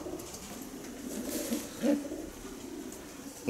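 Racing pigeon from Van Robay lines, a first-place winner, cooing in a loft: a couple of soft, low throaty coos rising briefly around the middle, over steady background hiss and faint ambient noise.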